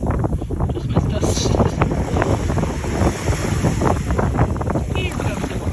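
Ocean waves wash up a beach during a walk, a steady broadband surf rush under heavy wind buffeting on the microphone, with voices talking over it.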